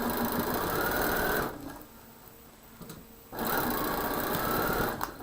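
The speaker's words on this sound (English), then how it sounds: "So as you sew" A sewing machine stitches quilt block seams for a holiday wreath quilt, running in a steady loud buzz, pausing for about two seconds, then starting again, with no one speaking.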